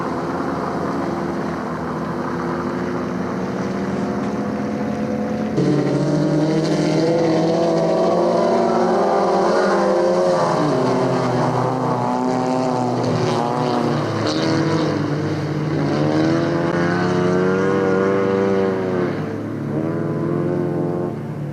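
Several ice racing cars on an open-class first-heat parade lap, their engines droning and revving together in overlapping layers, loud and sustained with pitch rising and falling as they pass.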